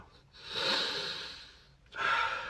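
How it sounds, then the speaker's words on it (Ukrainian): Slow, deliberate breaths drawn through one nostril during a seated breathing exercise, the left nostril open and the right held closed: a long airy inhale followed by a pause and another breath, close and quiet, with no talking. "Закриваєш праву ноздрю і починаєш дихати лівою ноздрю."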